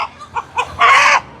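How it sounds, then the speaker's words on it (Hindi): A desi rooster clucks in a few short bursts, then lets out a louder, longer call, close by during a chicken-buying outing. "ये सारे मुर्गे ने?"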